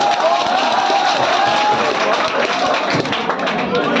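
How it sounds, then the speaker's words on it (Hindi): Audience applause at a prize distribution for class 12 students who scored above 80 in English and Hindi: dense, steady clapping fills the whole stretch, with faint voices mixed in. "ताली बजाइए आप लोग"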